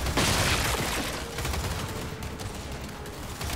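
Sustained gunfire in the Gears 5 video game, loud and dense with heavy low rumble and overlapping shots that fade slightly over a few seconds.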